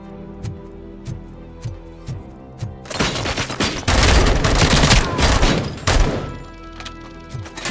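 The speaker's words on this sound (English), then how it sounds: "Damn grenades." Grenade explosions and gunfire in RoboCop Rogue City: after a ticking, clicking lead-in, a sudden loud blast erupts into rapid bursts of shots and booming rumble, then fades back to sporadic ticks.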